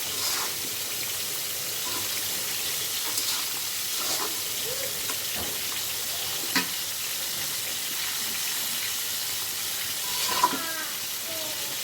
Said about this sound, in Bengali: আর এখান দিয়ে বাঁধাকপি ভাজি করতে আসি